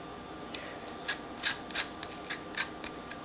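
A vegetable peeler scrapes russet potatoes in a series of short, crisp rasping strokes, roughly eight quick scratches spaced about half a second apart, close and fairly quiet with no speech.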